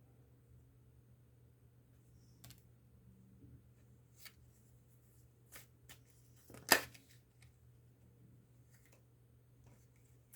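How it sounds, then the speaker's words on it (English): Tarot cards are shuffled by hand in a quiet room, a few soft riffling and sliding bursts scattered across the stretch with one sharper snap near the middle, close and faint against a low steady hum. "I shuffled the 8 of Pentacles with the Temperance"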